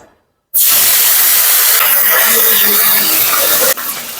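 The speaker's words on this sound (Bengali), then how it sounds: "তেল গরম হয়ে গেছে ওই মাছগুলো দিয়ে দিচ্ছি কড়াই" A loud, sudden burst of hissing sizzle erupts after a moment of silence and holds steady as small fish hit very hot mustard oil in a wok, close by with no talking.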